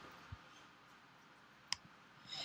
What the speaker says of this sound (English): I'm going to click on new brush from the brushes panel